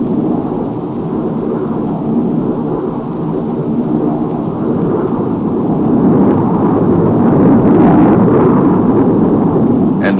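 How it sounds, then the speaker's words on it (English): A Lockheed F-104 Starfighter, a Mach 2 US jet fighter from 1962, roars with a steady, dense rushing noise that swells slightly louder toward the end, and no other sounds stand out. "The Lockheed F-104 Starfighter, commonly referred to as the missile with a man in it"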